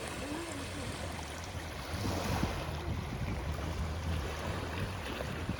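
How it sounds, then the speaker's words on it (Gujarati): Sea waves wash onto a rocky shore near Gopnath, a steady broad rushing surge that swells slightly midway, close and continuous with no talk. "તો જો દોસ્તો વેળ આવી રહી છે પાણી દરિયાની."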